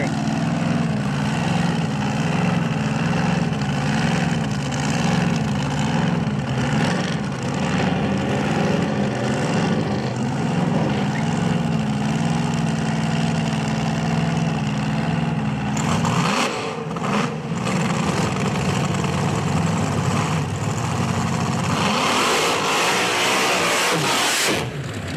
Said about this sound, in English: Top dragster, ProMods are coming to the staging lanes.